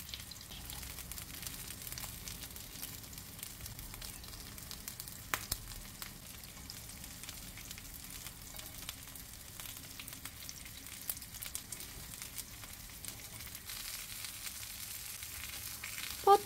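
Eggplant slices and meatballs fry in a pan, giving a steady, soft sizzle with faint crackles throughout and no one talking.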